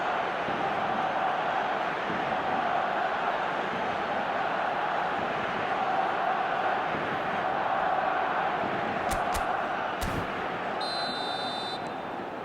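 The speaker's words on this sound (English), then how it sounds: "the crowd level has gone up a notch or 10" A stadium crowd at the Santiago Bernabeu roars loud and unbroken after a Yamal goal, a sustained wall of noise with brief whistles or horns near the end.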